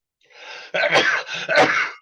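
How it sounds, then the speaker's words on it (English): A single person sneezes during a podcast recording, a short inhale building into two sharp bursts close to the microphone, with no talking. "wouldn't be a podcast unless I sneezed a couple times."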